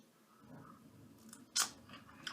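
Pickled caperberry seeds crunched between the teeth, a quiet close-up chew with one sharp crisp crack in the middle and a softer crunch at the end, no talking.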